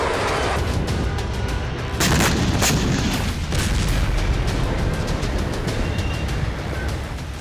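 Missile strikes hit a building in Syria, heard as dense heavy booms and cracking blasts over a continuous loud roar of explosions and gunfire-like reports.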